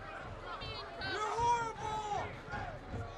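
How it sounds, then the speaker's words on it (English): A soccer crowd at a Saint Louis FC versus Pittsburgh Riverhounds match voices displeasure at the referee's no-call, a sustained wash of jeers and shouts swelling near the middle, with a commentator's voice running over it. "Crowd voicing their displeasure for that decision not to blow the whistle"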